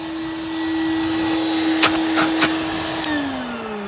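A Numatic CTD570 vacuum cleaner runs steadily with only one of its motors working, giving a constant drone with a whistling tone, broken by a few brief knocks near the end as the pitch begins to dip.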